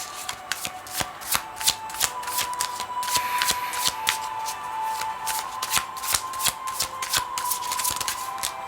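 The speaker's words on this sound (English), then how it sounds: "Let's pull out 3 tarot cards." Tarot cards being shuffled by hand, a quick run of crisp riffling flicks and soft slaps, close and fairly quiet, repeating in short bursts.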